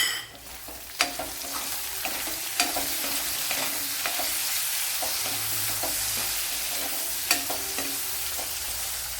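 Garlic, ginger and a large tomato sautéing in a pan with a steady sizzle and occasional sharp clicks of a spoon stirring against the pan, close by with no talking.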